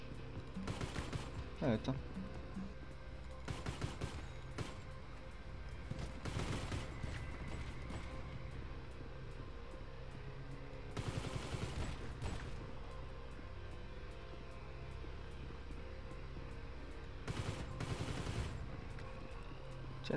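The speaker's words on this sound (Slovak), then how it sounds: "len tak sa mi rýchlo strieľa" Rapid gunfire bursts in the shooter video game Kill Quota come in several clustered volleys separated by short gaps, fairly faint overall, with people talking between the shots.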